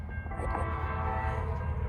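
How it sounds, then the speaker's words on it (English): A Norfolk Southern freight train rumbles past in a loud, continuous low roar, with a faint horn-like tone above it, heard on the Charlotte District. "They got a -9, so let's see this train."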